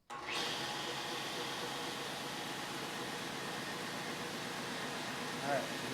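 A table saw fitted with a paper blade spins in reverse while cutting wood, starting abruptly into a steady, even whirring roar that holds for several seconds, with a faint voice briefly audible underneath.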